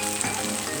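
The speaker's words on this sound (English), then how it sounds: "So here we have a lovely stir fry." Vegetables, prawns and egg noodles sizzling in a hot pan during a stir-fry, a steady close crackling hiss that runs without a break through a brief moment.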